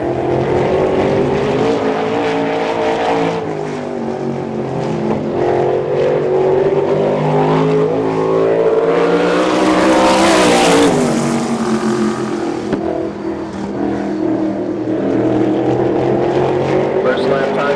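A USAC sprint car at the Fathers Day Class nationals, Tony Elliott of the Kokomo, Indiana Jeff Walker Racing team, roars around the track with a loud sustained engine note that swells as it passes near, while an announcer talks.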